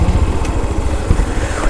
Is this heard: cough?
no